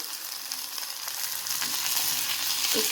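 Chopped tomato sizzling and frying with pinkish-browned onion in a pan, a steady continuous crackle with occasional louder spits, close and alone without talk.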